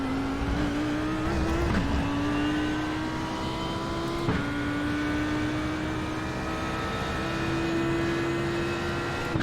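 A car running the same engine as a Lamborghini pulls hard, its steady, loud engine tone climbing and then dropping at each of several gear shifts, with no voices over it.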